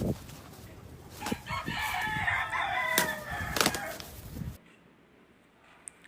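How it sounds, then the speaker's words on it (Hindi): A rooster crows in a long, loud cock-a-doodle-doo with a few clucks and sharp bursts around it, then cuts off abruptly into near silence. "यह है बच्चों रूस्टर, इसे हिंदी में मुर्गा कहते हैं।"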